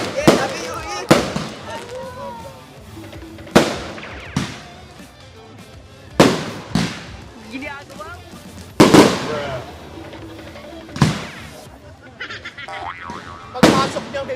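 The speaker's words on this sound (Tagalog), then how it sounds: "Pagpasok niya may fireworks na sila." Fireworks and firecrackers burst at a New Year celebration in Tacloban, sharp loud bangs recurring every second or two across the span, with crackling tails and excited voices calling out between blasts.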